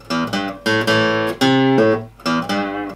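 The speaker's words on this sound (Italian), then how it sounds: "ed è lì che entra in gioco lei, la mia dolce e cara chitarra." A short, punchy guitar riff for a video outro plays alone, its plucked notes ringing out in several clipped bursts with a gentle decay.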